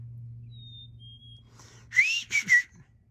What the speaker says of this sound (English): Something whistling out there at me.